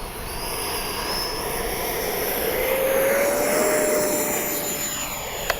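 An E-flite 70mm Viper electric ducted-fan RC model jet makes a low pass, its whine rising and swelling as it nears, peaking midway and then easing off, with a sharp click at the very end.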